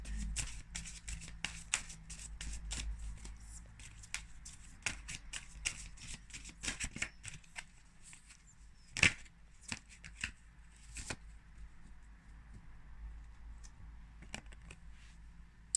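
Tarot cards being shuffled by hand, a steady stream of soft riffling flicks and slaps with one sharper snap near the middle, close and quiet with no talking.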